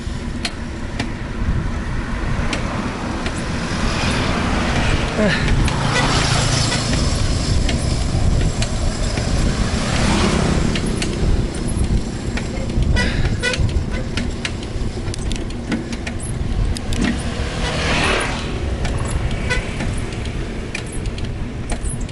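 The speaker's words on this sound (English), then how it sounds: "Oh, traffic jam." Road traffic in a jam on a street in Hoi An, Vietnam, with concrete mixers nearby: a steady engine rumble and passing vehicles, with horn toots breaking through now and then and some speech.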